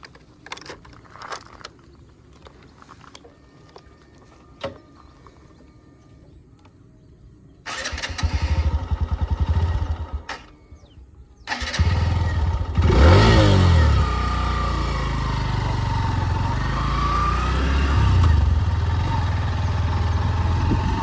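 A motorcycle engine starts up outdoors at a forest lake site, then idles and revs steadily and loudly close by, after a quiet stretch of faint background sounds.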